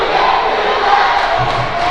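Crowd cheering and roaring steadily at a high school girls' basketball game on a cold Friday night, a dense, continuous wash of voices close by with a few louder shouts rising out of it.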